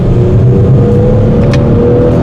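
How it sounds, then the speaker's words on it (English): Steady in-cabin drone of an Audi SQ5 cruising at 75 mph on its stock exhaust, a low constant engine and road hum with no talk, holding even throughout. "75 miles an hour, stock exhaust before we put the X-pipe"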